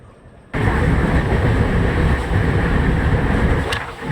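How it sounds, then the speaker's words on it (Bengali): A moving train rumbles steadily after a quieter opening moment, a continuous broadband roar of wheels and carriage noise with no talk. "ট্রেন ছেড়ে দিয়েছে।"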